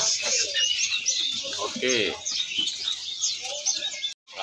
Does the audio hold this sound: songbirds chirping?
yes